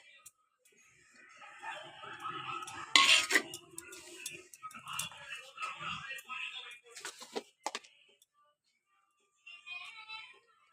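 Chopped onion and green chilli mixed by hand into lentil paste in a bowl for prawn fritters, with close clattering and scraping against the bowl that comes in uneven bursts and a sharp knock near the middle.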